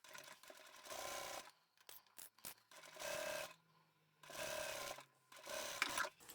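A sewing machine with a zipper foot top stitches through outer fabric and lining in four separate whirring runs, each a second or so, with quiet pauses and small handling clicks between them.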